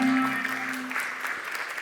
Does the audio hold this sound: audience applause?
yes